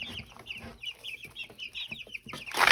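Several young chickens cluck and chirp close by in quick, uneven bursts, ending with a louder rustle of movement.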